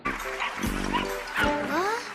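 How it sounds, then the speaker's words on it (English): A cartoon dog woofs and yips twice in quick succession, close and clear, with whimpering tones between barks and a voice alongside. "she just imagined she heard a woof woof"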